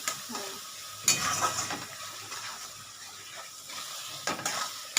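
Spices and vegetables sautéing in a pan for a Bengali potato, pointed gourd, pumpkin and prawn curry, a soft sizzle with spoon stirring and scraping in bursts, quiet and close, with no talk.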